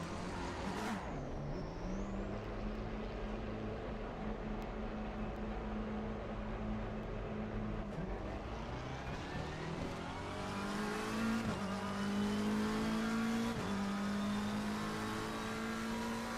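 McLaren race car from Assetto Corsa Competizione at Monza, its engine droning steadily and climbing in pitch through repeated upshifts, loud and continuous with no talk over it.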